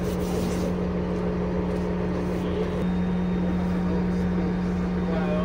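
A Komatsu motor grader's engine hums at a low, steady drone from inside the cab, its pitch dropping partway through as it slows toward idle.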